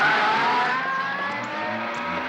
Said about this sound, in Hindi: तू रिवर्स में गाड़ी क्यों चला रहा है?